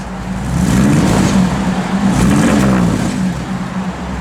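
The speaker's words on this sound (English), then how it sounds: "Give it a little rev." A 1962 Chevrolet Impala SS engine revs up loudly and holds a strong, throaty roar, easing slightly toward the end, heard up close with no talking.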